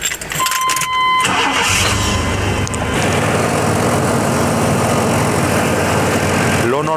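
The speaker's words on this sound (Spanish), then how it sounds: "ahora vamos a encender el auto" A car engine cranks and catches, with a short starter whir followed by the engine settling into a steady, loud idle, while a voice speaks briefly at the start.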